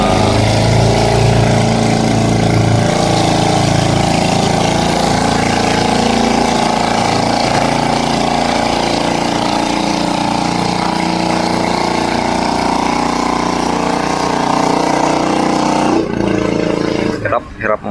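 A new wooden boat's engine labours under strain, a loud continuous throbbing drone that runs steadily before easing near the end. Voices talk faintly over it.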